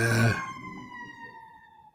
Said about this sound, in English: is that just a siren?